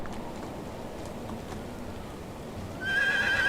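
A horse in the video game Medieval Dynasty whinnies near the end, a high, wavering neigh over soft background noise and faint hoof clops.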